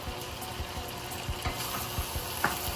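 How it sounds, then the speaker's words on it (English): Cooked potatoes being stirred into a big pot of Sicilian eggplant caponata, with a steady low sizzle under irregular soft scraping and thumping strokes of the spoon, close and fairly quiet, no talking. "We're going to stir those all in."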